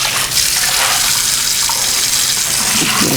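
Beets are rinsed under loud, close running tap water in a kitchen, a steady full gush with splashing that fills the whole moment, with no one talking.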